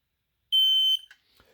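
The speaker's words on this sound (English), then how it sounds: "push and hold the test button until you hear the beep" A smoke alarm sounds one loud, steady high-pitched test beep lasting about half a second, followed by faint handling clicks.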